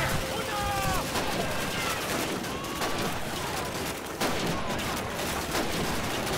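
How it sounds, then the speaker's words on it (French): Enemy gunfire crackles in Call of Duty 2 during a Soviet campaign fight at Stalingrad, with rapid bursts of rifle and machine-gun shots and distant battle noise, while a voice speaks over it. "Oh là là, je pointe le nez quelque part et on me tire dessus."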